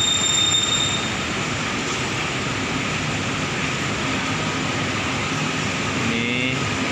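Long train of carriages at Tugu station in Yogyakarta, a steady broadband rumble of rolling stock with faint squealing wheels, continuous and fairly close, no talking.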